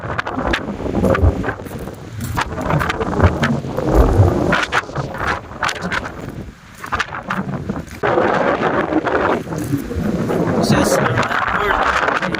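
Strong gusty wind buffets the microphone in loud, roaring bursts near a train station in Hungary, with voices talking intermittently underneath.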